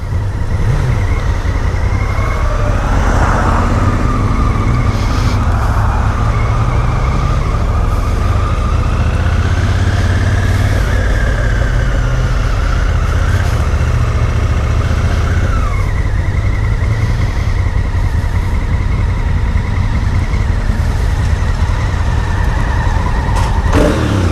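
A 2017 Honda Africa Twin motorcycle rides along with a steady, loud engine drone and wind rumble throughout, the engine pitch rising and falling through gear changes.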